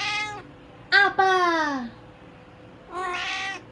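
A cat meows three times, loud and close: a short call, then a longer drawn-out yowl that falls in pitch, and after a pause another clear meow, with a person speaking briefly.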